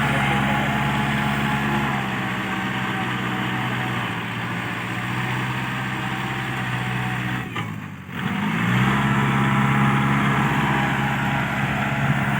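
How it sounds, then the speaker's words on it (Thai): A walking tractor engine works hard through tough field soil, a steady close droning chug that briefly cuts out and dips near the end before surging back to its full, loud, laboring note. "รถไถนี่เหนื่อยเลยครับ ตัวแบบนี้"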